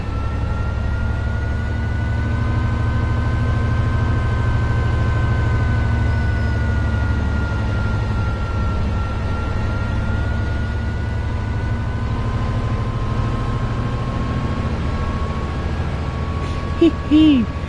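A deep, steady diesel engine drone from a Metrolink F59PHR locomotive in Train Sim World 5, with a low rumble and sustained tonal hum, running continuously, with a brief clatter near the end.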